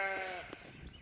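Sheep bleating on a farm, a short nearby bleat that is fairly faint and stands alone without talk.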